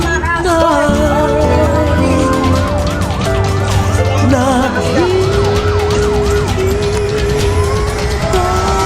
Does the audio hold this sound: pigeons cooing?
no